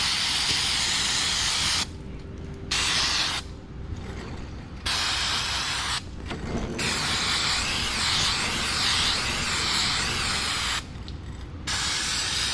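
Degreaser spray hissing steadily while a go-kart's bearings are cleaned, long continuous bursts broken by a few short pauses, close and fairly loud.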